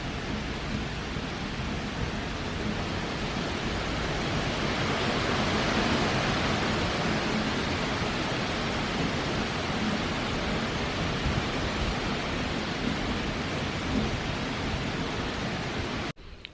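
Typhoon Hagibis lashes Tokyo with a steady, dense roar of wind-driven rain, a loud, unbroken broadband wash that holds constant and cuts off abruptly near the end.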